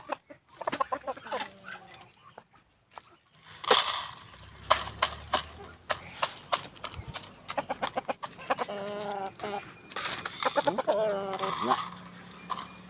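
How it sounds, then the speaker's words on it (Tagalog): Asil chickens on a farm cluck and call repeatedly at close range, with sharp bursts and rising squawks over a busy farmyard background, and a voice briefly heard among them. "Ating mga asil na manok."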